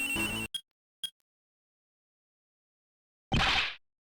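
Cell phone ringtones in the Ace Attorney Investigations 2 video game: a burst of game music, two short chimes, then silence before a longer, louder electronic ring.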